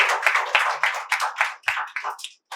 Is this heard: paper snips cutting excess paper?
no